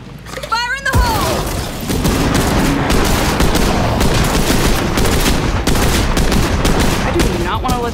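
An explosion in State of Decay 2 sets off a loud, continuous barrage of gunfire and booms that lasts several seconds, with voices heard underneath.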